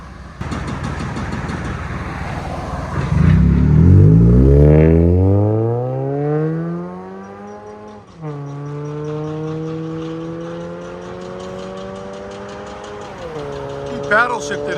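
A 2023 Toyota Camry SE 2.5L with a Magnaflow Magnapack mid and rear muffler delete revs up loudly, climbs through rising engine tones, shifts, then settles into a steady cruising drone with a brief blip near the end; people talk in between.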